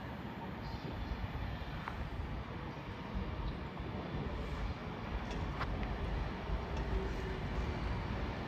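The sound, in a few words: Avanti West Coast passenger train arriving at Nuneaton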